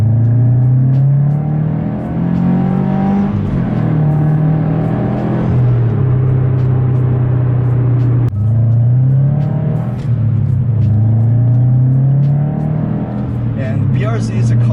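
A Subaru BRZ accelerates hard from second gear at about 25 mph, its engine note climbing through a long pull, easing briefly at a shift, then climbing again, loud and close, with a voice talking over it.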